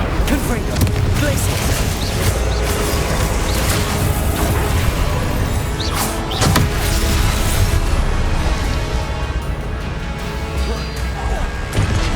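Incendio fire spell cast in Hogwarts Legacy, a dense continuous barrage of crashing, whooshing magic effects and bursts, loud and close throughout, with a few sharper impacts standing out around the middle.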